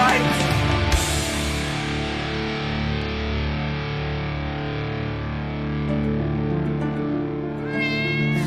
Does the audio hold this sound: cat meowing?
yes